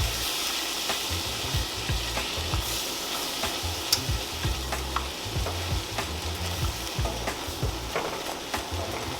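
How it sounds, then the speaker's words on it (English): Cream being stirred into thickening spinach artichoke dip in a pan, with a continuous bubbling sizzle and rhythmic spoon strokes scraping the pan up close, no voices. "we're gonna just add some more cream, and we're just gonna stir"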